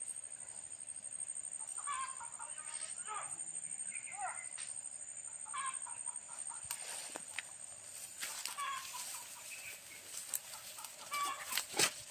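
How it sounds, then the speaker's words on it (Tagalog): Wild junglefowl cluck intermittently in soft, short bursts at a distance, over a steady high insect drone, with faint rustling and murmured voices nearby. "Manok ng bukid to."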